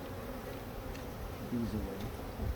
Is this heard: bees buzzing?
yes